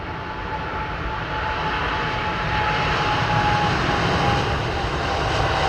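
An airliner arrives in fog at London Heathrow Airport, its engines producing a steady, loud broadband roar that swells gradually over several seconds, with no talking.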